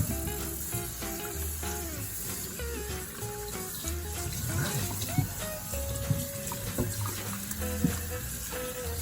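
A turkey washed under running tap water before barbecuing, a steady splashing stream into a sink with shifting gurgles and handling clatter, close up, with occasional voices in the background.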